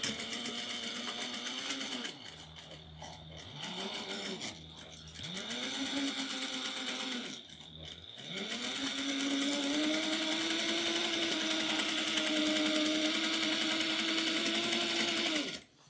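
A sewing machine runs in long steady bursts while back stitching a seam on a fabric triangular shoulder bag, pausing briefly a few times before a sustained final run, with no talk over it.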